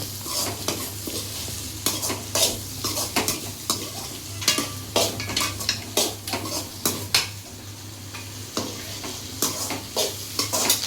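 Onions sautéing in a pan for a Tamil okra kuzhambu, with frequent scraping stirs and clanks of the utensil against the pan over a steady low sizzle, close and fairly loud, no talking.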